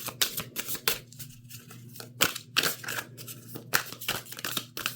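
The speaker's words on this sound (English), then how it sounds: "starting to get difficult to shuffle" A deck of tarot cards being riffled and bridged, with repeated crisp papery bursts that come in an uneven rhythm, close up and with no voice over them.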